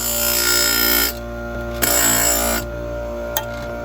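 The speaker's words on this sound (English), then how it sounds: "manually kind of advance that to actually hit the grinder wheel" A Husqvarna 266XP chainsaw chain is sharpened on a grinder wheel, giving a loud, steady high-pitched motor whine that drops away twice into a quieter hum, with brief sharp grinding contacts.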